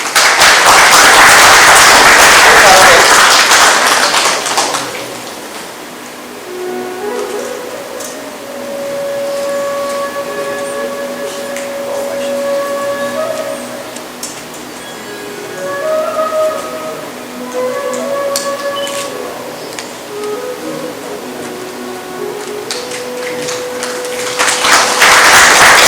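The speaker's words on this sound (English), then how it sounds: "So please give them a round of applause." Applause from the audience at a Ramayan Yagya evening gathering, a loud burst of clapping over the first five seconds and a second swell at the very end, with steady sustained musical tones in between.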